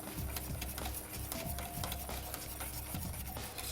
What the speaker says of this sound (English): Because we've got a stainless steel saucepan, it means we can whisk in it.